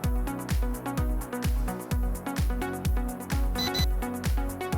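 An S12 GPS drone emits a steady series of regular electronic beeps during compass calibration, loud and close, repeating roughly twice per second with a sharp tonal chirp and no voices.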